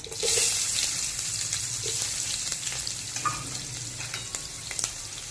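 Onion tips into hot oil already crackling with cumin and mustard seeds for desi noodles made from leftover roti; a loud hiss bursts at the start, then settles into a continuous close sizzle with occasional stirring clinks.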